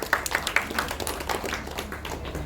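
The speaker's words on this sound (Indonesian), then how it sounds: "Tepuk tangan buat beliau" Scattered clapping from guests at a birthday celebration in a small room, a few sharp claps up front that blur into light, uneven applause.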